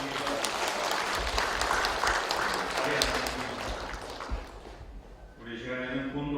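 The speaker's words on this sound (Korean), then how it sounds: "우리 박수로 축하해 주십니다." A church congregation at a retirement and ordination service applauds warmly for several seconds. The clapping fades out and gives way to soft tonal music.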